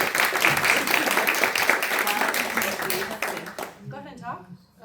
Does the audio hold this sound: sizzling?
no